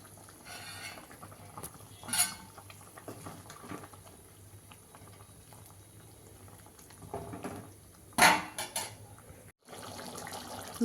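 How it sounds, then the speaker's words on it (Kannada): Okra masala sambar (bendekayi sambar) boils in a pot covered with a plate, a steady low bubbling with a few sharp metallic clinks near the start and again toward the end, no talk. "ಒಂದು ಪ್ಲೇಟನ್ನು ಮುಚ್ಚಿ ಇದನ್ನು ಕುದಿಸ್ಕೊಳ್ಳೋಣ."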